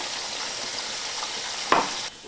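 Whole cumin, bay leaf and ground spice paste sizzling in hot oil for a cabbage curry, a steady close crackle with a brief louder splutter near the end before it quiets.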